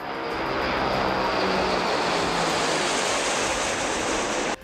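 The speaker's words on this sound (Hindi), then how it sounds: "सिग्नल मिलते ही विमान के इंजन चालू हो गए और इसमें लगे पंखों ने तेजी से घूमना शुरू कर दिया" Heavy Russian bomber derived from the Tu-95, its propeller engines roaring steadily and loudly at a military airfield during takeoff, a dense continuous drone with no talk.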